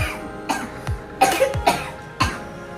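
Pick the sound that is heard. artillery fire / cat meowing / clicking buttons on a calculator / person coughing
person coughing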